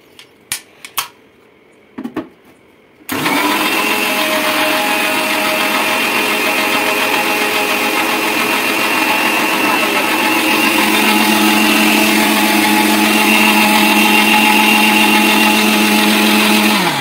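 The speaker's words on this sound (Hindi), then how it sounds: "मम्मी को मिक्सी में ग्राइंड करना पड़ रहा है" A kitchen mixer grinder whirs loudly and steadily while grinding biscuits into powder for an Oreo shake, starting abruptly after a few soft knocks and running continuously at high speed.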